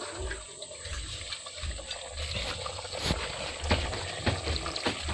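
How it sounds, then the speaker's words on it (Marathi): Tamarind water is poured into a village-style sea crab curry as it cooks, giving a steady close liquid splashing and bubbling sound with a few sharper clinks from the pot, no voices. "आता खाटं टाकत आहे"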